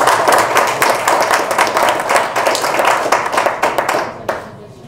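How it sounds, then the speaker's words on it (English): A crowd claps in a dense, steady burst of applause at a big data analytics symposium, fading out near the end. "give a round of applause to Sanjo Paul"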